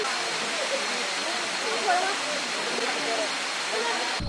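Waterfall at Na Mueang on Ko Samui, Thailand, a steady, dense broadband roar of falling water that runs unbroken and fairly loud throughout, with faint voices in the background.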